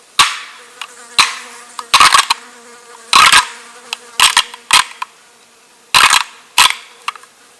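Knight & Hale Pack Rack synthetic antlers rattled in a deer-rattling sequence: sharp clicking clashes and grinding bursts in irregular clusters with brief gaps between, close and loud, with no talk.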